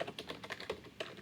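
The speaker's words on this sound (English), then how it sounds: "So I'm gonna type this." Java code typed on a computer keyboard, a quick, irregular run of close, moderately quiet key clicks with no talking.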